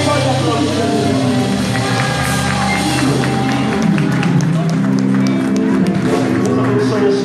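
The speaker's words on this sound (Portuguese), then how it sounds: "Quem pode aplaudir a Deus?" A church congregation applauding, a dense sustained wash of clapping and crowd noise filling the room from start to finish, with voices and music mixed in.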